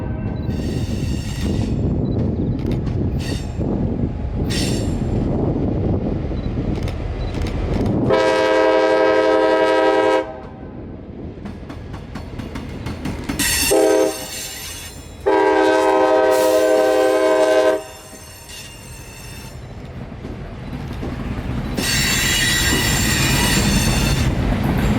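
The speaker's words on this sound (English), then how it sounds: "This locomotive came in on Q603 a couple of days ago, and this is the first local train that they've used it on." A CSX GP38-2 locomotive hauls a local freight train past at close range. Rumbling wheels and engine noise run underneath several loud horn blasts: one medium, one short, one long, and a final sustained blast.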